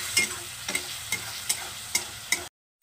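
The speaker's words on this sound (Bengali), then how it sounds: "আমি অল্প পরিমাণে একটু জল দিয়ে দিচ্ছি, যাতে মশলাটা একটু সুন্দর করে কষানো হয়।" Ground spice masala stir-fried with a little water for chicken ghugni, a soft sizzle punctuated by about six evenly spaced spatula scrapes, close and quiet, ending in a brief silence.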